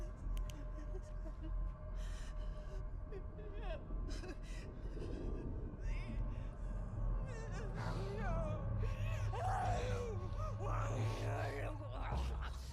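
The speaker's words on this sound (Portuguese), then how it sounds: "nos primeiros estágios da infecção, a gente consegue ouvir o cara gemendo e gritando de agonia" Infected creatures in The Last of Us groan, gasp and scream in agony, strained cries rising and falling over a dense, steady game soundscape with a low rumble throughout.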